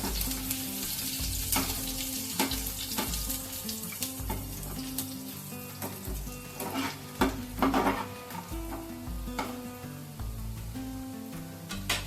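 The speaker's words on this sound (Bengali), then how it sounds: "এর মধ্যে দেবো আমি রসুন এগুলো আমি সতে করে নেবো ফ্লেমটা আমি বাড়িয়ে দিলাম" Chopped garlic sizzles in hot oil in a pan on a high flame while cooking dragon chicken. There is a steady crackling fry, punctuated by clinks and scrapes of a spatula stirring, close up and without talk.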